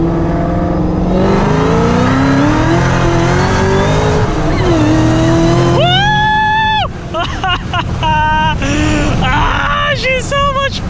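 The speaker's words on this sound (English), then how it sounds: "I want to do a second gear pull." A 1200hp Shelby GT500 Mustang accelerating hard in a second gear pull, the engine's pitch climbing loudly and steadily from inside the car, then shifting and roaring on with people talking over it.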